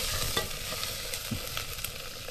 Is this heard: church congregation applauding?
no